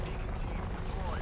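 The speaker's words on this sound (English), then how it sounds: "Here comes the helicopter." Helicopter in the video game Shadow of the Tomb Raider, a loud steady rotor and engine roar filling the whole brief moment, with a voice talking over it.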